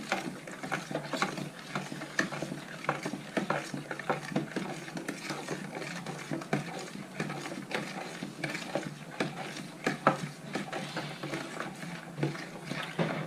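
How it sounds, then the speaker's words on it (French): Pistachio cake batter is stirred with a glass of milk, giving a run of quick, irregular scraping and clinking taps of a utensil against a bowl at close range with no talk. "Un verre de lait. On remue."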